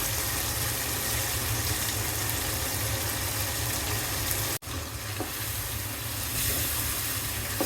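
Washed small tengra river fish hit a pan of fried spice paste, setting off a steady loud sizzle and hiss that continues throughout, broken by one brief clatter midway.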